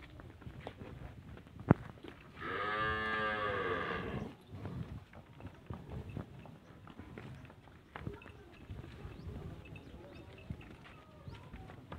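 A Jersey–Sahiwal cross cow gives one long, loud moo of about two seconds, standing alone against soft farmyard background noise with a few faint knocks and shuffles.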